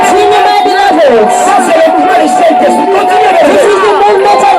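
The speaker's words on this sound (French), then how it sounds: "We will continue to lift His name up with the acclamations and shout of joy." Congregation at a worship service shouting and acclaiming together in a loud, sustained mass of voices, with a high sung or cried tone running through the crowd noise.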